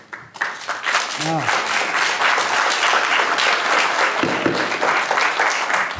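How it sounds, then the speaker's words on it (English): An audience at a city council meeting breaks into sustained loud applause, many hands clapping at once for several seconds, with a few voices audible underneath. "I'm going to ask everybody to clear if you keep on clapping"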